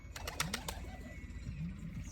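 Soft, low pigeon coos repeat close by, alongside a few quick flutters or taps at the start and a faint hiss in the background.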